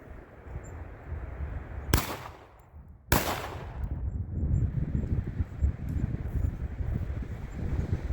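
Panzer EG200 shotgun firing buckshot rounds outdoors, two loud sharp blasts about a second apart, each followed by a rumbling echo over steady background noise.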